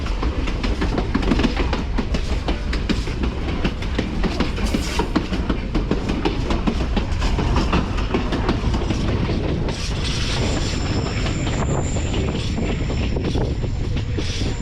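Steady, loud rumbling of a train heard from an open observation car on the Puno to Cusco line through the Peruvian highlands, with continuous wheel clatter and wind, and a faint squeal or whistle tone in the last seconds.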